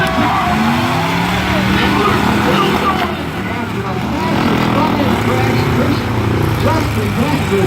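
Demolition derby cars rev and grind in a loud, continuous engine roar with scraping and crunching, while an announcer's voice carries over the arena.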